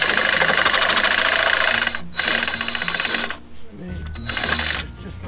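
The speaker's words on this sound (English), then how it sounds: "Just sitting here with the hacksaw." A hacksaw cuts off a wire end while wiring a 480-volt center pivot irrigation span, with rapid rhythmic rasping strokes that stop about halfway, followed by clatter and quieter handling noises.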